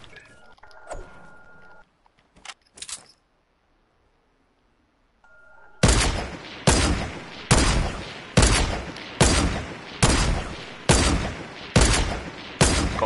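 Distant gunfire in a video game, coming as a steady run of about nine evenly spaced shots after a quiet stretch with a few faint sounds.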